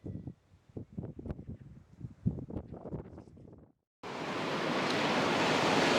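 Surf at Hyams Beach in Jervis Bay, heard as a sudden steady broadband wash of waves and wind that follows a few seconds of unrelated knocking sounds.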